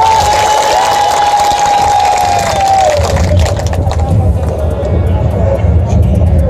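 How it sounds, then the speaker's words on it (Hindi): A large crowd at a political rally in Alwar for Union Home Minister Rajnath Singh makes a steady, loud din of clapping and cheering that runs unbroken throughout. A sustained tone sits above the noise. "ताली जोर से बजाओ बेटा"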